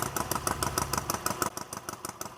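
A Triumph Bonneville T120 classic British motorcycle engine runs steadily nearby with an even, rapid thumping beat.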